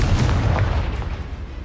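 The Confringo fire spell bursts in Hogwarts Legacy with a loud, close, booming explosion that rumbles heavily in the low end and decays over a second and a half.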